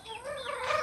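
A single chicken gives a short, soft cluck close by, brief and fairly quiet.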